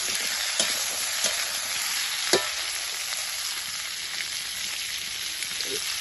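Chopped vegetables frying in a pan, a bright continuous sizzle with a few sharp clicks from stirring, steady and close, with no voices.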